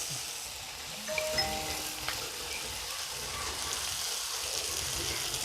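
Curry leaves crackle and sizzle in hot oil for a Kerala-style jeera chicken, a steady close hiss with light spattering pops and no voices.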